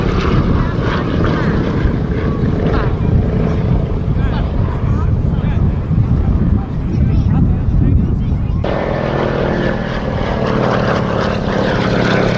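A Lockheed 12A Electra Junior's propeller engines drone loud and steady at an air show, the tone shifting partway through as the aircraft comes in to land.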